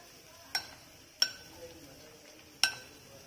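A spoon clinks against a pot three times at uneven intervals while masala paste is stirred into Andhra-style fish curry. Each knock is sharp and close, with a soft scraping between the hits.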